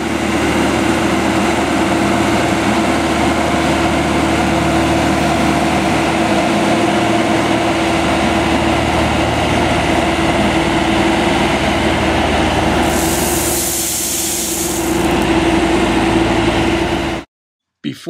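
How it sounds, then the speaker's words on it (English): Compacting machine working 8 inches of stone spread inside building footers, a loud continuous droning engine hum with a steady low tone, briefly shifting near the end before cutting out abruptly. "Sean and his assistant, Isaac, work as a team to spread and compact 8 inches of stone across"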